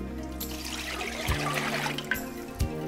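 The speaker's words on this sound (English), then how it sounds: "Add approximately 2 cups of water." Water poured into the glass bowl of a Fagor halogen oven, a steady splashing and gurgling stream close by, with a few sharper splashes as the level rises.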